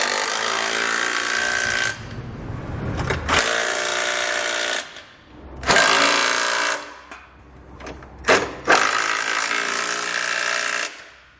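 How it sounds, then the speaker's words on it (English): Trailer hitch bolts on a 2020 Honda CR-V frame rail are tightened with an 11/16 socket on a power tool, which gives several loud, close mechanical bursts separated by brief pauses. "we can come back with an 11/16 socket and tighten down the hardware here in our frame rails."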